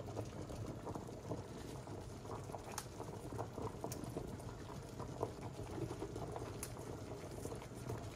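Tomato sauce with basil simmers and reduces in a pot, giving faint, continuous bubbling and popping with scattered small pops heard up close.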